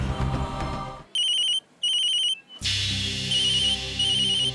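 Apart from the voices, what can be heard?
telephone ringing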